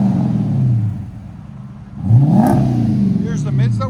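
A 2011-2014 Dodge Charger R/T with its factory tips removed revs up loudly through a new exhaust, a deep rising and falling roar that quiets and then swells again, with faint voices underneath.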